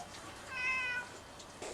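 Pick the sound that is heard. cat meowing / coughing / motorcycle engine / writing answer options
cat meowing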